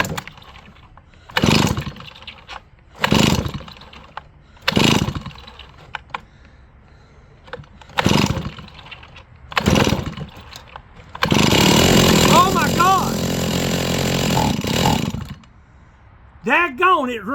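Small engine with a locked throttle being pull-started: several separate rope pulls with brief cranking bursts, then the engine catches and runs with a loud, steady buzzing roar for a few seconds before it cuts out, with someone talking briefly near the end.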